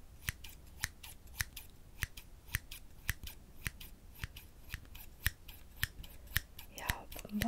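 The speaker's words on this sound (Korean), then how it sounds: "문방구 가위가 어때서?" Stationery scissors snip through hair bangs in a close, quiet setting, about two dozen sharp crisp cuts at a steady irregular rhythm, with a soft voice briefly at the end.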